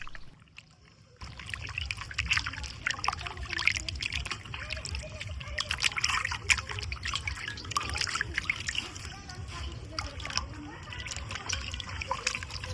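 Mutton chusta being washed by hand in water, with splashing, squelching and trickling that starts after a brief quiet moment and continues close and busy throughout.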